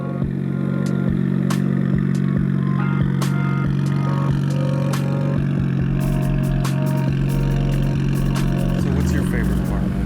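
A twin-turbo Nissan Skyline R32 GT-R engine idles with a deep, steady exhaust rumble, loud and close, with occasional sharp clicks and clatter over the drone.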